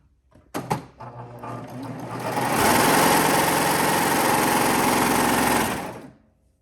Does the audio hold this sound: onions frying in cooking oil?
no